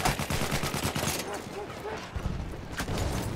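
Battlefield 1 gunfire comes as fast repeated shots, dense early on, then thinner and more scattered, mixed with someone speaking.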